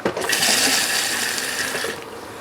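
Water rushes steadily into the toilet bowl of a 2022 Sandpiper 399LOFT RV, driven by residual line pressure after the flush pedal is pressed. The hiss is close, continuous and fairly loud, then eases off near the end.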